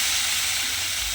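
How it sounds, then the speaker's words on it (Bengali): Water hits sizzling fried spice paste in a pan with potato and lentils, a loud, steady steam hiss and crackle filling the moment without any voice. "এবার আমি এর মধ্যে দিয়ে দেব জল।"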